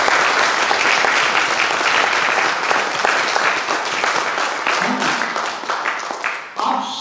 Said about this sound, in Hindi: इसके लिए बहुत जोरदार ताली होनी चाहिए।